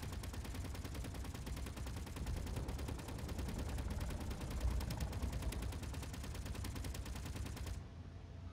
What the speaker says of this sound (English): Oh crap, he's got rockets.